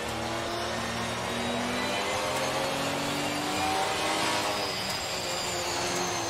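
A Porsche GT4 race car engine in Assetto Corsa Competizione drones loudly and steadily, a continuous close-up roar with slight pitch shifts as the revs change.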